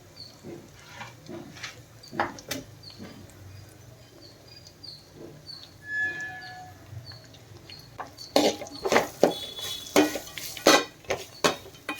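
Coconut and cashews roasting in ghee, stirred in a pan, with scattered clinks and scrapes of a spoon on metal that grow into a busy run of louder knocks near the end, close by over a low sizzle.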